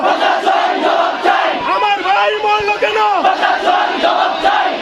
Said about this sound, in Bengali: মানববন্ধনে নিহতদের স্বজন ও সহপাঠীরা হত্যাকারীদের বিচার দাবিতে বিভিন্ন স্লোগান দেন।